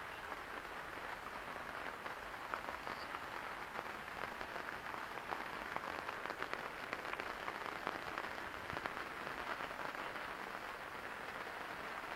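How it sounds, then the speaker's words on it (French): Steady rain patters on a surface, a soft continuous hiss of drops with occasional sharper taps, no voices. "Parce qu'alors il pleut."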